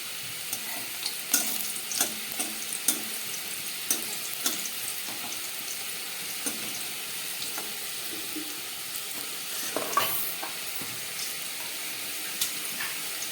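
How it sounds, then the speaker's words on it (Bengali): Four lentil badi fry in oil left over from frying fish, giving a soft crackling sizzle with scattered light clinks of stirring and a faint trickle of water. "এবার এই মাছ ভাজার তেলের মধ্যে আমি 4টে বড়ি ভেজে নিচ্ছি।"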